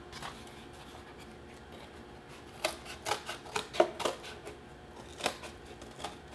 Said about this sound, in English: then we'll just cut these out. You can use scissors or use your X-Acto knife.